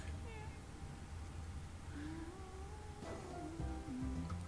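A cat meows in the video game D4: Dark Dreams Don't Die, giving a few faint, wavering cries over steady game background ambience, with quiet talking mixed in.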